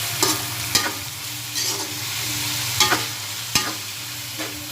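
Marinated ground pork sizzles steadily in a hot pan, a close, continuous frying hiss broken by occasional sharp scrapes and knocks of a utensil stirring the meat.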